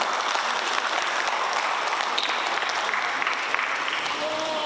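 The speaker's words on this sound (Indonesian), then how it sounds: "Tepuk tangan Bapak Ibu sekalian." Audience applause fills a ceremony honoring an award recipient in the literature category, steady dense clapping from a nearby crowd sustained throughout with no break.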